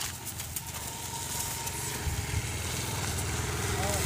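A motorcycle engine runs and idles at a steady, moderate level on a rural property where sheep are being trained to a yoke, with voices talking over it.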